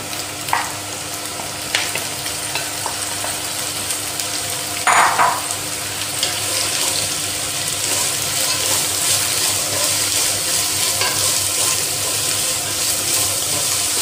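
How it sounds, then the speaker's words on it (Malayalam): Onions sizzle steadily in hot oil for a Kerala-style beef curry, with scattered spoon scrapes and stirring clatter over the continuous frying hiss, close by and with no talking. "ഇനി നമുക്ക് ഇതിനകത്തേക്ക് സവാള ചേർക്കാം."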